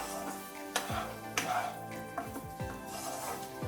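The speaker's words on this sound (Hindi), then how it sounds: "अभी हम इसमें पोटैटोज ऐड कर देंगे। इसको अच्छे से मिक्स कर देंगे मसालों के साथ।" Baby potatoes are tossed into fried spices in a pan, with a few distinct clanks of a spoon against the metal and a soft sizzle running underneath.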